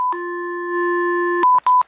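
Landline telephone sounding a steady dial tone, then a few short sharp touch-tone beeps as keys are pressed, loud and close with no voices.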